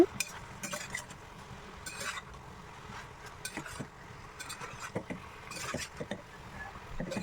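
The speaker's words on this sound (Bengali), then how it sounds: "মশলা দিচ্ছি সব রকম মশলা লঙ্কা হলদি ধনে জিরে কড়কপুরি সব দিয়ে ওকে ভালো করে ভুনে নেব" Chili, turmeric, coriander and cumin spices being stir-fried in a pan, with a soft steady sizzle under repeated scraping and clinking of a utensil against the pan, no talking.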